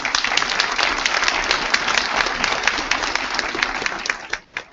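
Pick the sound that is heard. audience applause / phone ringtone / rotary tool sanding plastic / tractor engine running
audience applause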